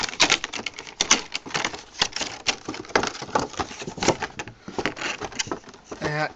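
An Xbox 360 Chrome Series controller is unpacked: dense rustling, crinkling and tearing of packaging with scrapes and taps, continuous and close, ending with a short squeak.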